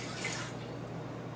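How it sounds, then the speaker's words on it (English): A cup of vinegar poured into a liquid measuring cup while preparing salsa for canning, a brief close liquid splash and gurgle that quickly fades to quiet. "We'll pour in a cup of vinegar here."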